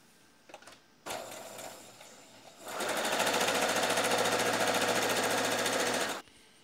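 A sewing machine stitches double strips onto a men's shirt, first a short burst, then after a brief pause a longer run of rapid, even needle chatter up close before stopping abruptly.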